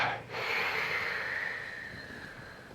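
A long, deep inhale during a guided breathing exercise at a cognitive fitness workshop, a steady airy draw of breath lasting a couple of seconds, close and fairly loud with no talk over it.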